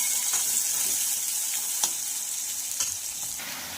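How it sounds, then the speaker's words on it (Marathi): Sliced onion frying in oil until golden for chickpea usal, a steady close sizzle with a few light stirring scrapes and taps over a short stretch, with no voices. "हे सुद्धा आपल्याला छान असं गोल्डन रंगावर फ्राय करून घ्यायचं आहे।"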